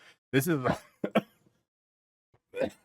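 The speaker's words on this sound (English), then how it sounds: "Sorry, I'm coughing a lot lately." Several short, rough coughs and throat-clearing bursts, close up, with a brief pause before a final cough.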